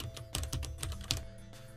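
Quiet, quick keystrokes on a computer keyboard, about a dozen soft clicks in an uneven burst of typing with no voices.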